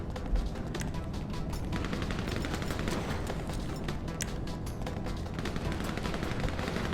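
Gunfire in GTA V on Xbox One rings out in a multiplayer bunker match as scattered sharp shots and short bursts over a busy game background, fairly quiet overall, with no speech.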